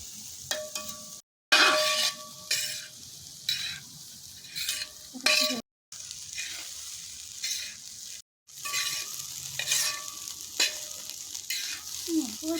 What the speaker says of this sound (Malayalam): വേവിച്ച് വെച്ചിരിക്കുന്ന റൈസ് കൂടി ചേർത്ത് മിക്സ് ചെയ്തെടുത്താൽ നമ്മുടെ ഫ്രൈഡ് റൈസ് റെഡി